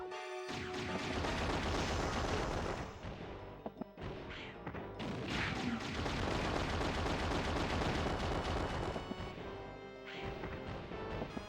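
Bombs blasting a mummy enemy during a battle in the PlayStation game Alundra, a dense run of loud crashing explosions and bursts filling the clip with a brief gap midway, no talking.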